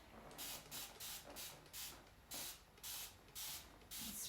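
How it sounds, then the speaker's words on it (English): Short hissing bursts of a spray can, about eight pulses in a steady rhythm, close and fairly loud with brief pauses between. "Spray it nicely to have it drip down."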